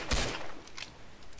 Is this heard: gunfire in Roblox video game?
yes